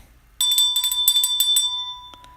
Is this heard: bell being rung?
yes